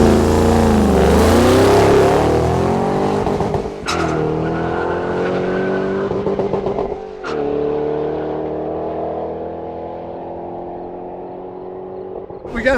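2014 Mustang GT500 launching down a drag strip: a loud, close engine rips upward through the gears with sharp breaks at each shift, bouncing off the rev limiter, with some tire noise and faint voices underneath.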